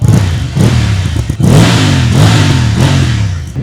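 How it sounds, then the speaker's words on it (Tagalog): A 2024 BMW F750 GS motorcycle with a GS exhaust revs sharply several times up close, loud, choppy throttle blips that rise and fall, with no voices. "Ito talaga yung pang GS na exhaust."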